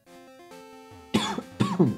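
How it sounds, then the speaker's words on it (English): Two or three harsh coughs burst out close to the mic after a soft, steady electronic melody from Pokémon Crystal plays alone. "I know it was a cough"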